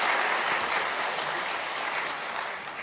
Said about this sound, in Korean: 우리 한번 박수로.